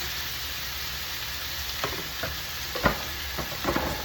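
Drained vegetables sizzle in olive oil in a pan before shrimp is added, a continuous crackling fry broken by a few louder clatters of stirring toward the end, with no talking.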